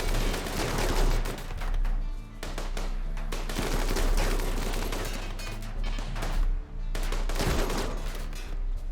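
Turret gunfire in the video game RimWorld: loud, dense fusillades of rapid automatic shots roll almost continuously, with brief dips between bursts.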